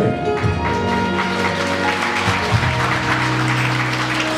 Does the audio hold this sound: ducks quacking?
no